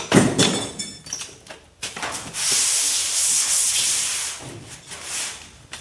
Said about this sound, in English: You can either watch me sand up here, or you can watch my butt while I sand up there.